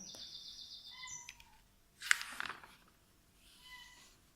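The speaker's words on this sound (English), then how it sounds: "My cat is meowing." A cat meows indoors in a cottage, a short faint cry followed by a second fainter one, with chirpy bird-like tones at the start and quiet room ambience.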